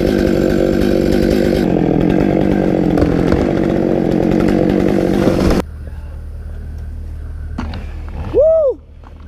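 A chainsaw runs loud and close, its rough engine roar holding steady, then cutting out abruptly, followed by a brief rising and falling whine.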